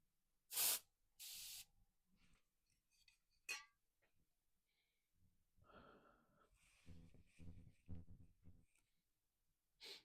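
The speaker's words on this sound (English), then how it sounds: "Make sure I don't spray it in my eye." Two short, sharp hisses from an aerosol of Cotton Fresh scented spray sound close to the microphone, followed by quieter breathy sniffs, faint clicks and some low murmuring.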